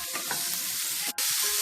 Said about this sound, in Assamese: এতিয়া ইয়াতে কাটি থোৱা জিকাখিনি যোগ কৰি দিম, ভালদৰে মিলাই দিম।